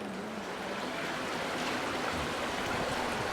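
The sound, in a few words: water splashing in a Bern city fountain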